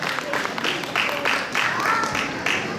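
A crowd claps steadily and quickly at a Deepavali prize distribution, in fairly even beats under ongoing chatter and voices.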